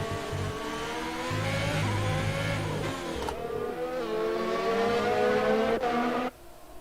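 Formula 1 cars in a racing video game at the Abu Dhabi Grand Prix, their high-pitched engines whining loudly as they accelerate, with layered tones from several cars before a sharp drop near the end.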